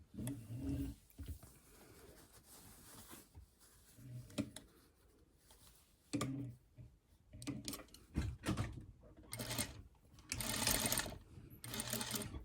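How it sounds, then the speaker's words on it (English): A sewing machine stitches homemade fabric bias tape, running in close, rattling bursts that stop and start, with quieter handling sounds between runs and longer, louder stretches toward the end. "I'm not going to iron it, I'm just going to start stitching it"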